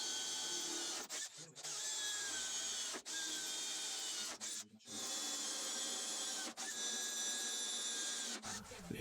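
A power drill runs in several steady bursts with short pauses, boring mounting holes in plywood for a homemade electric Formula 1 car, a high whine close by.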